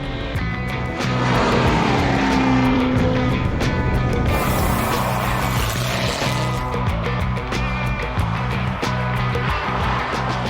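Race cars at the Sandhills Open Road Challenge on a closed Nebraska highway, engines roaring loud and steady as cars sweep past at speed, with a rising whine and pass-by swell in the middle.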